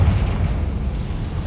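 A Confringo blasting spell explodes in Hogwarts Legacy, producing a brief, deep rumbling boom that stays loud and low-pitched without any voices.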